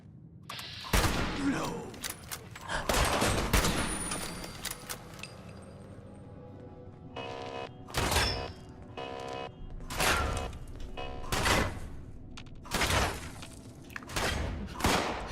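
Bursts of gunfire in Fallout 76 are aimed at the player: loud, close volleys and single shots arrive in uneven clusters, with separate sharp blasts spaced a second or two apart toward the end.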